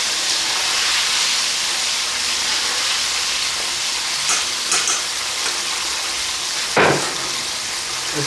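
Crispy sesame chicken strips crackle in hot oil during their second deep-fry, a steady dense sizzle throughout with a few sharper pops and a clatter near the end.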